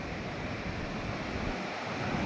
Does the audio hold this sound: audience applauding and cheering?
no